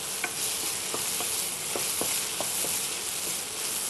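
Steady sizzling of masala frying in a pan, with repeated metal scrapes and clinks from stirring at an irregular rhythm, close by.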